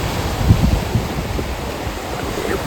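Sea waves wash along the Ganpatipule coast with a steady, broad rush of surf mixed with wind buffeting the microphone, a couple of heavier surges early on, no voices.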